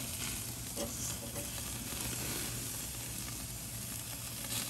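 A sous vide chuck roast seared over a flame and flipped, giving a continuous, even hiss of sizzling fat and steam close by with no talking.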